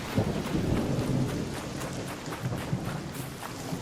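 Heavy rain pours steadily with deep rumbling thunder rolling underneath, a dense, continuous storm wash with no voices, from a thunderstorm in the video game Arc Raiders.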